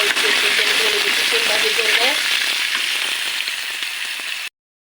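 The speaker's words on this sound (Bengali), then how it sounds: "চিংড়ি মাছটা এখন ওই যে ঢেলে দেবো আমি নিয়ে একটু ভালো মতো কষাই দেব" Shrimp frying and being stirred in a hot pan give a loud, close sizzling hiss over a background voice that talks briefly. The hiss fades a little before cutting off abruptly.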